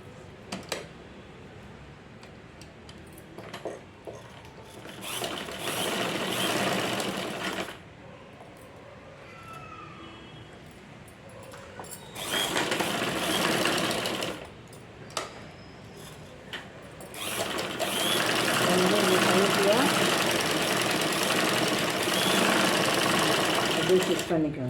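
An electric sewing machine stitches a blouse lining in three bursts of rapid, even whirring, with quiet gaps between runs where a voice talks faintly.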